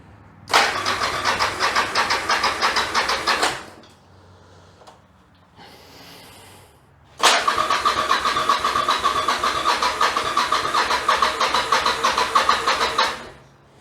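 A Yamaha XV750 Virago bobber with a single carb conversion cranks over and starts without choke, rumbling loudly for a few seconds before stalling, then starting again and running rough for several more seconds.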